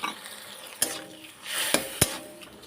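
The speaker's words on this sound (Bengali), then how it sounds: "এবার এটাকে ভালো করে একটু নাড়াচাড়া করে নেব" Lentils being stirred in a cooking pan, with a soft scraping swish and three sharp clinks of a utensil against the metal, each standing out clearly in a quiet kitchen.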